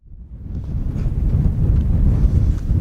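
Steady, roaring wind buffets the microphone on open Pennine moorland, a dense low rumble that builds in the first half second and then holds loud and continuous.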